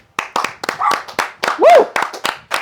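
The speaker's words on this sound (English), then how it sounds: "So, round of applause, please." A small group of people behind the camera give a round of applause at a podcast, a close, loud burst of uneven hand claps lasting a few seconds, with voices mixed in.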